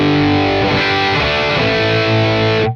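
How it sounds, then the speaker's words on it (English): An electric guitar runs through a HOD Klon KTR overdrive pedal with its output set to 10, giving a loud, gritty, sustained chord strum. The tone is thick and distorted yet clear, and it rings for about three seconds before cutting off abruptly. "It's almost like it's adding gain or adding distortion, and it's also adding clarity at the same time"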